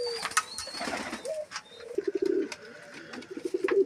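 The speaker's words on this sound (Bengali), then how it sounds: "এইখানে দুইটা কিং কবুতর" King pigeons cooing in a few low, soft bursts, with a faint hiss and rustle of background noise around them and no voices.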